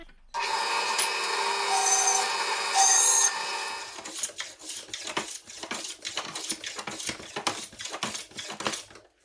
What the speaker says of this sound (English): Just mark the notch. And we'll cut that out.